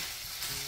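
Hotdogs frying in a little oil in a pan after the water has cooked off, giving a steady close sizzle and crackle with no talking over it.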